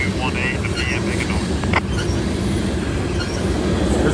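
Close-up of a passing CSX or Norfolk Southern freight train: continuous heavy rumble and clanking wagons, high wheel squeals early on and a short sharp clunk midway, with a voice faintly under the noise.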